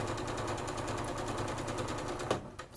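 A sewing machine chain piecing quilt blocks made from charm packs, its needle running in a fast, even, rapid ticking rhythm close by, then stopping abruptly near the end with a soft clunk.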